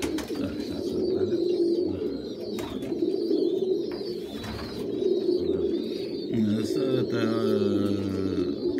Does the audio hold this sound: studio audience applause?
no